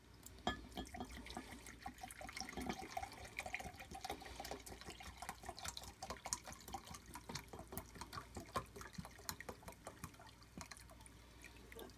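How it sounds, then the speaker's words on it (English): Apple cider vinegar is poured into sugar in a steady, faint liquid trickle lasting several seconds, quiet and close with no talk. "We're going to do 2 cups of the vinegar,"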